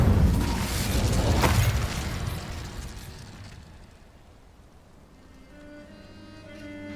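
A fire spell is cast in the video game Hogwarts Legacy: a loud, close, roaring blast that swells over the first seconds and then fades into a low rumble with faint musical tones.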